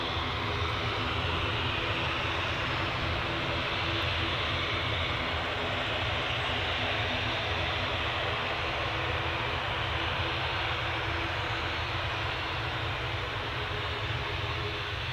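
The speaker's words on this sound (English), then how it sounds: "Okay, Aer Lingus prop." Aer Lingus propeller airliner with a steady, close engine drone that holds level for about fifteen seconds, alone without talk.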